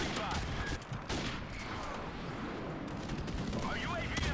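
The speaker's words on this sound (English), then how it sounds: "That's not where I put my airstrike." Airstrike explosions in the Call of Duty: Modern Warfare video game form a dense, continuous roar of blasts and crackling gunfire, loud and sustained throughout, with game voices faintly mixed in.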